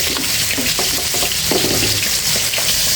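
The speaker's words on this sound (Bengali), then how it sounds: "আলুটা ভাজা হয়ে গেছে, এখন আমি তুলে নিচ্ছি।" Potatoes frying in oil in a kadai while cooking hilsa with stems and potatoes, giving a steady, close, loud sizzle with faint stirring clatter and no talking.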